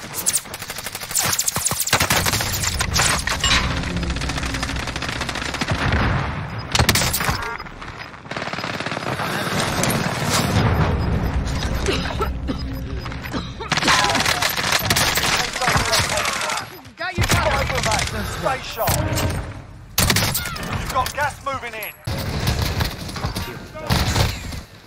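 Gunfire in the video game Call of Duty Warzone, with dense, loud bursts of rapid automatic shots and heavy impacts coming in repeated waves and broken by brief pauses, with voices talking through the action.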